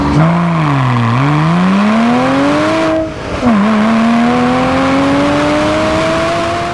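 A first-generation Porsche Cayman S flat-six revs loudly and close, climbing smoothly, dipping briefly, then rising again to a sustained high-rev wail with no talking.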